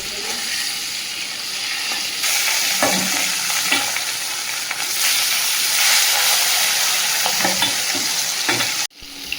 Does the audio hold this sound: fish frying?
yes